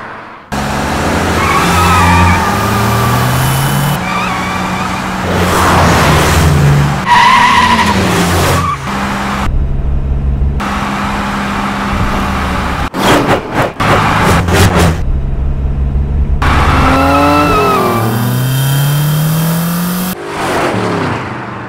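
In a dubbed action film, a car revs and drives hard, its tires squealing through several long skids before it comes to a stop, loud and close throughout.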